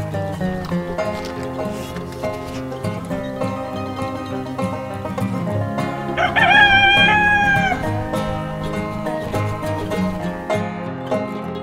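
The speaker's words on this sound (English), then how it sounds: "Come on, rooster. Are you a chicken?" A rooster crows loudly and close by in a netted poultry paddock, one drawn-out call midway through, over steady clucking and murmuring from a flock of chickens.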